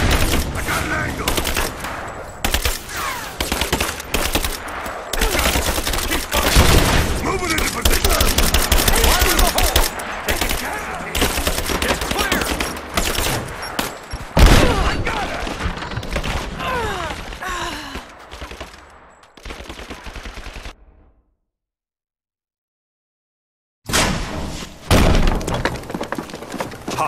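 Dense gunfire in Rise of the Tomb Raider: loud, close bursts of automatic fire and shattering impacts, with shouted voices in places. The barrage fades into about three seconds of silence, then sharp shots resume.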